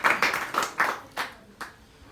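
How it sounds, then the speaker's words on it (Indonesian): A handful of separate handclaps from an audience at a panel discussion on waste in Bali, welcoming a speaker; the claps come irregularly, moderately close, then thin out and fade. "Tepuk tangan untuk beliau."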